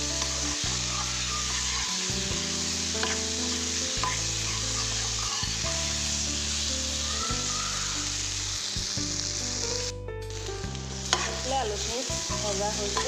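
Boiled potatoes fry in a pan in a home kitchen, giving a constant oily sizzle with a low, pulsing stove hum underneath, and occasional scraping from a ladle stirring and breaking them up. Close and steady, with no talking.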